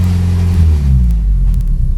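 A 420a performance engine running on methanol idles steadily at close range, its deep low rumble continuous and loud throughout with no talk over it.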